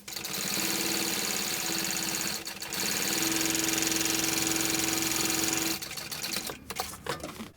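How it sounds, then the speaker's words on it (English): A sewing machine runs a second row of stitching on a bag, a steady loud mechanical whir with a fast stitching rhythm, briefly pausing once and then stopping near the end, with no voices. "Coming in with my second row of stitching."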